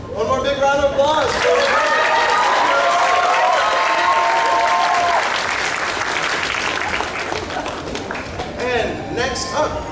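A big, sustained round of applause from a convention crowd at an anime con costume contest, loud and continuous, with a host's voice speaking over the start and end of the clapping.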